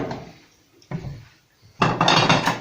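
A serving utensil clinks and scrapes against dishes as garlicky yogurt pasta, a Maraş regional dish, is dished onto a plate in a home kitchen, with a short knock and then a louder burst of clattering near the end.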